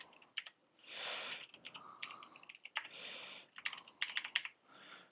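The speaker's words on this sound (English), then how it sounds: "Type up a little bit of HTML." Fast typing on a computer keyboard while writing HTML, with bursts of close, crisp key clicks separated by brief pauses.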